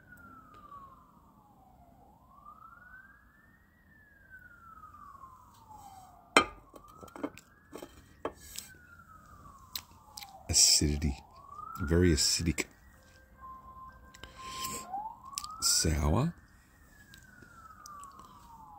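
Emergency vehicle sirens wail through repeated rising and falling sweeps as they pass outside at a moderate distance, while a person talks nearby.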